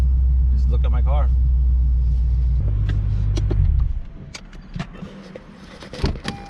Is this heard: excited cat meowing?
no